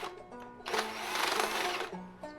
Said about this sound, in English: get my grinder and cut this off down here and round it off up here